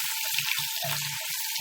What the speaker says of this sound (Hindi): इन दोनों को अच्छी तरह फ्राई करना है।